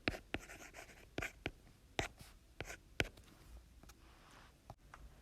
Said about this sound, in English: I'm going to pause and write it down